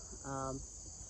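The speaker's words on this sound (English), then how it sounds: "That was my stomach growling." A brief, low tonal gurgle of a stomach growling, rising for a moment over a faint steady hiss, then fading.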